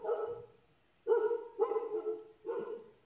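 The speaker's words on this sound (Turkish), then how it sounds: "Dog." A dog barks four times in a loose rhythm, short gruff barks at moderate distance with quiet gaps between them.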